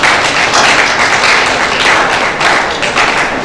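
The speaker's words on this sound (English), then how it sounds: "I want you to sincerely clap for yourselves." Graduating veterinary paraprofessional trainees clap for themselves at a ceremony, a dense, steady wash of applause filling the room, loud and continuous with no talk over it.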